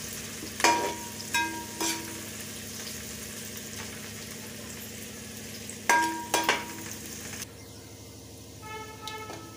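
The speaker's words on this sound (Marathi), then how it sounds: "खरपूस तळायचा, कारण याला वेळ लागणार आहे तळायला कांदा." Onion deep-frying in oil for Nagpur-style thin poha chivda, a constant bubbling sizzle broken by several sharp metallic clanks of a utensil against the pan, close and loud, with no speech.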